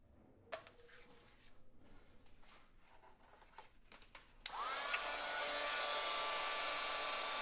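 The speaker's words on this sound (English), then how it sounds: "Let's go ahead and get the heat tool warmed up." A heat tool for melting clear embossing powder switches on partway through with a loud click and then blows a steady, close whooshing hiss of air, after a few quiet handling taps and rustles.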